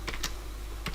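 Quick light keystrokes on a computer keyboard, a few soft clicks in a short burst with a brief pause before a final tap, close and quiet with no talk.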